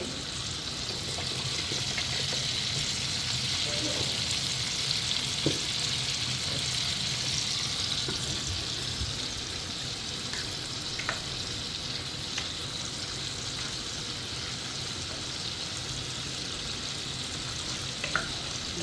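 Coconut milk jackfruit curry bubbles and sizzles steadily in a pan while being stirred, a dense continuous hiss with occasional soft scrapes, close and moderately loud with no talking.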